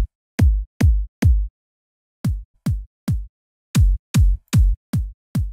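Unprocessed kick drum sample in FL Studio, played repeatedly: a run of punchy, deep booming hits with longish tails, grouped in bursts separated by short pauses, loud and dry with no talk.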